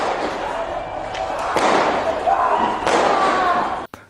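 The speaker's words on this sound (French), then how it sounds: "Devant le cordon de policiers, un projectile explose." A projectile bursts in front of a line of riot police at a street protest in Nantes, followed by a loud, dense roar of crowd noise and clatter that carries on without a break until it cuts off abruptly.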